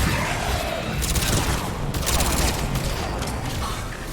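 Rapid automatic gunfire from a turret in Mass Effect 3 rattles in dense bursts over a continuous din of game combat, loud and close, with brief gaps between volleys.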